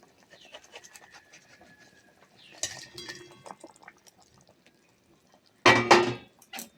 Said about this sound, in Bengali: দেখুন ঝোলটা সুন্দরভাবে ফুটেই গেছে